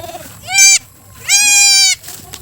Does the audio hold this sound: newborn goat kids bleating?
yes